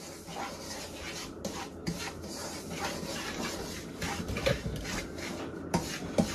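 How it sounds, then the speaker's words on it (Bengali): A wooden stick stirs semolina halwa in a pan on the stove, producing a continuous, close scraping and rubbing with small irregular bumps and no talk. "এটাকে কাছে থেকে একটা কাঠি দিয়ে ভেবে নাড়তে হবে"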